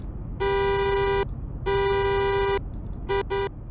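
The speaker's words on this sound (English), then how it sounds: "Here's what the horn sounds like." A video game Rolls-Royce Dawn convertible's horn honks loudly four times: two long blasts followed by two quick short toots, over a low engine rumble.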